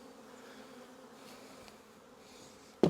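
Honey bees drone steadily around an open hive in a light, continuous buzz, with a sudden sharp knock right at the end.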